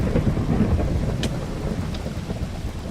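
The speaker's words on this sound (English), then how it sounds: "Oh, we got a thunderstorm." Minecraft thunderstorm with steady, dense rain hiss throughout and a low rumble of thunder rolling beneath it, no voices.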